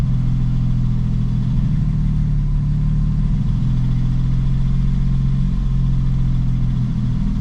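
A Porsche 996 Turbo engine idles high with an idle control fault, a loud steady droning hum with constant low harmonics and no change in pitch, close up and uninterrupted.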